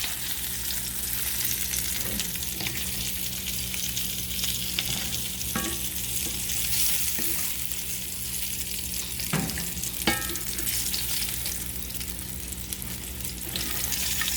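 Meatballs fry in a crowded pan with a steady broadband sizzle throughout, broken by a few sharper crackles and pops and some soft scraping of stirring, with no talking.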